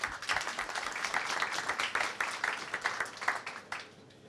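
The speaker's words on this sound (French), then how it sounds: "on peut les applaudir un tout petit peu, s'il vous plaît" Conference audience applauds the speakers, a moderate round of scattered hand clapping from a mid-sized crowd that holds steady and then thins out toward the end.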